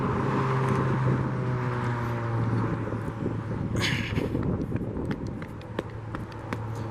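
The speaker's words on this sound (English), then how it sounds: "Let me wait to cross the street here because there's cars coming" Cars pass along a street near a crossing point, with a continuous road rumble and engine hum and one louder swoosh of a passing car about midway, and no one speaks.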